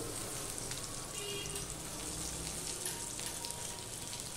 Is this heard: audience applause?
no